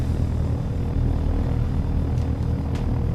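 Helicopter in the Take On Helicopters video game, a continuous loud engine roar and rotor rumble filling the mix without pause, no talking.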